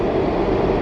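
DC Metro Blue Line subway train: a brief, steady loud rumble and hum of a train running, heard alone.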